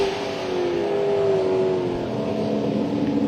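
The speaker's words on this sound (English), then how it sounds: "Getting up through the gears." A Chevy LSX drag race car at an NMCA event at Atlanta Dragway accelerates hard up through the gears, its loud engine note rising steadily and continuously with no talking.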